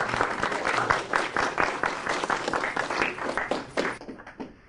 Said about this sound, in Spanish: un aplauso para ustedes